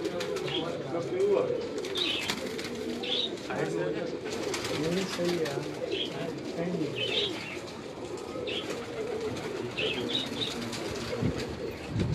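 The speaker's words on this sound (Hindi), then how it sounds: "जी, अंबरसरा कबूतर है जी इनका।" Amritsari pigeons coo softly in repeated low phrases beneath steady speech, with occasional chirps and wing flutters in the background.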